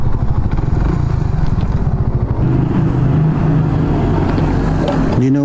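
A Raider 150 Fi motorcycle engine runs loud and close with a buzzing, pulsing exhaust note, holding steady before the pitch rises sharply as it revs near the end.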